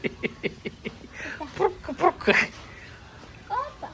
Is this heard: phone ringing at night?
no